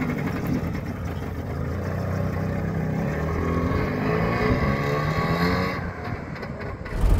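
Trabant 601 two-stroke engine running, a buzzy, rattling drone heard from inside the car that climbs in pitch as it revs up, then eases off toward the end.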